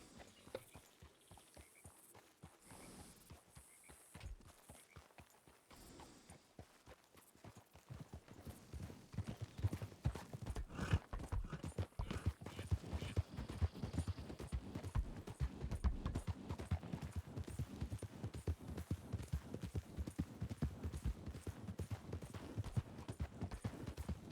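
Horse hooves clip-clop steadily in a Red Dead Redemption 2 roleplay, soft at first and then louder and closer as a brisk walking rhythm continues with no talking over it.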